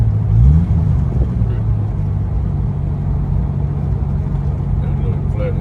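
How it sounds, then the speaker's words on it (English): A custom Studebaker roadster with a flathead six engine driving along, its low steady rumble running throughout, close and continuous, with road and wind noise mixed in. "That little flathead 6 is a good motor."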